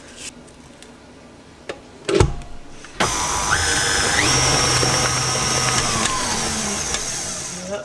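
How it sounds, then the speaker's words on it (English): An electric mixer whirs up to speed after a few clunks and scrapes, then runs steadily and fairly loud while beating cake batter, with its pitch shifting partway through. "I'm just going to scrape down the sides before I give it one more mix"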